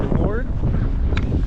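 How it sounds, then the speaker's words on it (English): Strong wind from a blizzard buffets the microphone at an outdoor storage-unit auction, a loud, constant rushing roar with a voice briefly heard under it. "Now the wind is whipping like crazy."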